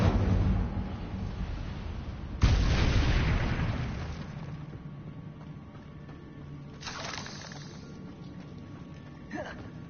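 In Hogwarts Legacy, casting the Incendio fire spell sets off a booming burst followed by a sustained roaring rush, then fainter flares later, over a constant game background.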